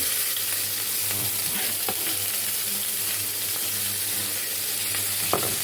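Onions hitting hot oil for a Polish vegetable stir fry, a loud, steady close-up sizzle and crackle with occasional stirring scrapes, no voices.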